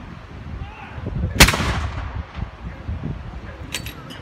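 An artillery gun at a military show fires a high-explosive round, one loud sharp blast followed by a rumbling decay, with faint voices and clinking around it.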